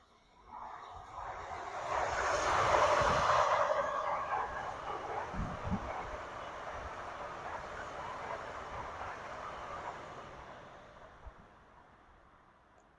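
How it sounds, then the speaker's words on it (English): A train passes close by outdoors, a broad rumbling roar that swells over the first few seconds, holds steady, then slowly fades away with no talking. "I hear another train coming"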